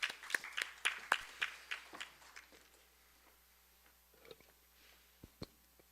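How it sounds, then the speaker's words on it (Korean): Scattered clapping from an audience at a university admissions information session welcomes the speaker; brisk, uneven claps for about two seconds, then thinning out into a few faint, isolated claps. "박수로 맞이해 주십시오."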